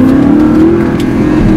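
An Audi R8 engine revs hard under acceleration in manual first gear on a road, a loud, steady, deep droning roar with a rising tone that fills the whole moment.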